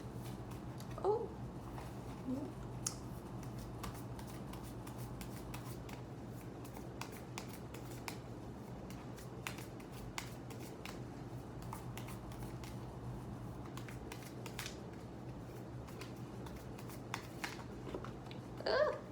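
Tarot cards shuffled by hand during a reading, soft rapid riffling and slipping of the card stack, close and quiet, with faint intermittent clicks over a low steady background hum.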